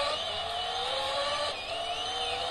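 A game car's engine whines and tires hiss as it drifts through a curve in a PS2 racing game played on an Odin 2 Pro emulator, a steady loud synthetic drone with a pitch shift midway, no voices.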